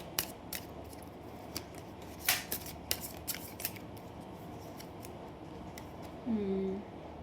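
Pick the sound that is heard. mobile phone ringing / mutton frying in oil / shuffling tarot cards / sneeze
shuffling tarot cards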